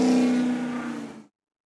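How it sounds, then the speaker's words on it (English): A noisy car roars past near a lawn bowls green during a state pairs quarter final, a loud rough engine drone that fades and cuts off within about a second. "There's a noisy car goes past."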